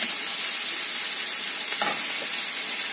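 Onions and a small tomato frying in a pan with salt, a steady broadband sizzle throughout with a brief stir near the middle, no voices.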